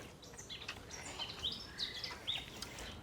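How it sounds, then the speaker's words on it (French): Several birds chirp and call in a peaceful French marsh in the Berry region, with short bright calls recurring over a steady low background of outdoor noise. "À part les oiseaux, on n'entend qu'un bruit ici, Michel."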